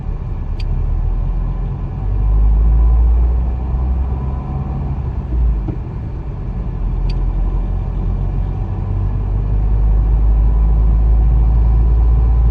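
A car in a driving-test practice lesson pulls away again after stopping, its engine droning steadily with a broad low rumble that swells as it accelerates through the gears, with no talk.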